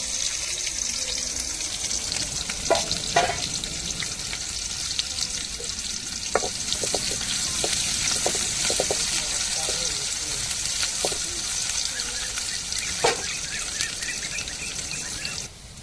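Fennel seeds tempering in hot oil for a goat intestine curry produce a steady, moderately loud sizzle, broken by scattered sharp clinks of stirring against the pan.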